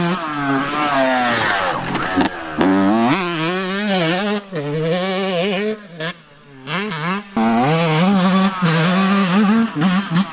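A Yamaha YZ125 two-stroke dirt bike revs and rides nearby, its engine pitch rising and falling in repeated surges with brief drops between throttle bursts, loud and continuous.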